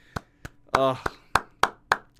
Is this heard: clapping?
yes